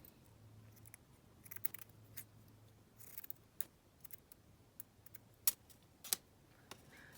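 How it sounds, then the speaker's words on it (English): Scissors trimming paper collage ephemera made from a floral board, heard as faint, scattered snips and paper rustles in a quiet room, no voices. "Just trim this down because it's a little bit on the big side."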